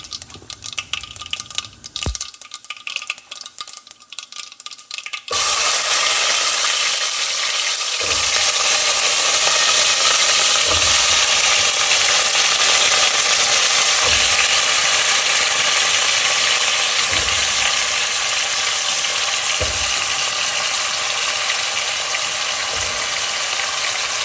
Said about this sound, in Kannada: ಈಗ ಬಾಳೆಕಾಯಿನ ಹಾಕ್ತಿದ್ದೀನಿ